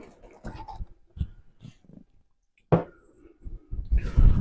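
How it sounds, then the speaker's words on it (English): Eating sounds with wet, gulping swallows and chewing come in irregular bursts close to the mic, separated by short quiet gaps, with a louder rush near the end. "Sorry if you hear those big gulps"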